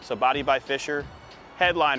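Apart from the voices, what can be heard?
No everyday noise stands out behind the speech.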